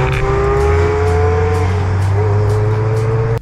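A Mark 1 Audi TT on a fast wet uphill run sweeps past, its engine note loud and sustained, pitch holding steady with a slight dip and recovery mid-pass, no voices.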